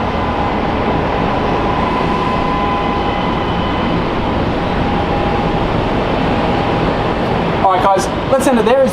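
A train rolls in near an outdoor spot by Brisbane Airport, a steady broad rumble and hum of rail cars that grows throughout, with a few higher squealing, warbling tones near the end.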